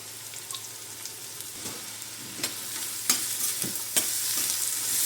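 Grated carrot and crushed peas fry in a pan for a veg burger filling, giving a steady sizzling hiss with sharp scraping stirs of a spatula at irregular intervals, close and moderately loud, with no voices.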